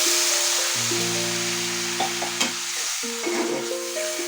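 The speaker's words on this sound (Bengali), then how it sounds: "এই রকম কিছুক্ষণ এটাকে তেলে নাড়াচাড়া করে" Raw mango pieces sizzle in hot oil with a steady bright hiss, while occasional soft stirring scrapes sound over it. Faint sustained tones hum underneath.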